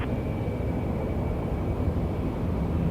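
An airliner landing at Toronto Pearson airport produces a steady, broad jet roar that holds constant and fairly loud throughout, with no voices heard.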